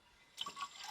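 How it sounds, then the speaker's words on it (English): Cold water runs into bottles at an outdoor trail water source, a short rushing, splashing pour that starts abruptly and grows steadily louder, heard close and alone. "And now to fill up all the bottles."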